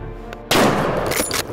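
A single loud, close rifle shot cracks out during a driven wild boar hunt in Hungary, with a sharp onset and a short echoing tail.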